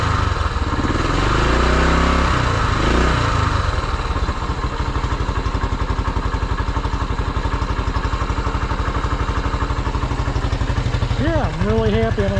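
A restored 1974 Honda XL250 motorcycle idles close by with a steady, even single-cylinder putter and a quick throttle blip near the start. A person speaks briefly over the running engine.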